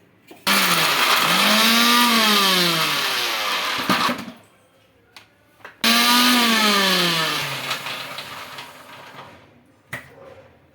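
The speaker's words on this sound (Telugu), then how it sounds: "అయితే మిక్సీకి వేసుకున్నానండి" A kitchen mixie grinding cabbage for appam batter in two loud bursts, each with a rising motor whine that winds down as the appliance is switched off, brief clatters in between.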